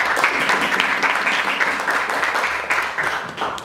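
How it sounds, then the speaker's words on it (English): An audience at a world schools debating championship round in Bali gives loud, continuous, evenly dense applause, with no clear voices on top. "I'd like to give you a round of applause."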